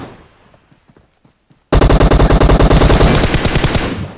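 Rapid automatic gunfire in the mobile shooter PUBG Mobile bursts in loud and sustained after a second and a half of faint scattered shots, a dense string of evenly spaced rounds running to the end.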